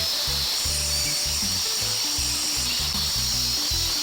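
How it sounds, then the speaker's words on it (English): Power tool cutting grooves into wood for a decorative pegboard panel on a power tool charging station, a steady high-pitched whine with shifting tone, loud and continuous with no talking. "Now here I'm cutting the grooves for the decorative pegboard panel for it."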